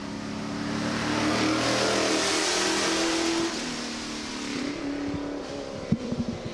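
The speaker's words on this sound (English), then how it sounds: "Tim Thompson, you'll see driving that Land Rover pretty damn quickly" A Land Rover runs hard up the Doune hillclimb course on a demo run. The engine roars loud and steady, revving as it climbs, then eases and fades a little before a few sharp knocks near the end.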